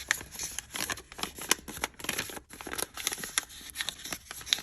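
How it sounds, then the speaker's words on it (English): Small art scissors snip through paper in quick repeated cuts with a crisp, crinkly rustle, close and fairly quiet, without talk. "I take his little art scissors"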